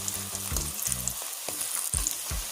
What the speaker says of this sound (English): This one I'm doing fried plantain.